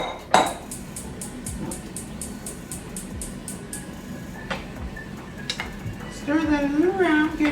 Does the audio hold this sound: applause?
no